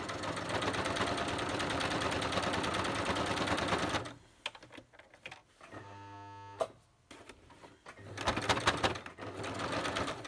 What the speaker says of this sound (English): I'm very mean to my sewing machine.